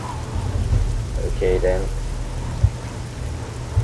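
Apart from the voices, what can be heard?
rain in the video game Elder Scrolls IV: Oblivion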